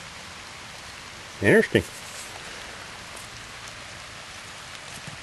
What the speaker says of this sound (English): find something else to get out of the rain, because it's starting to get kind of heavy here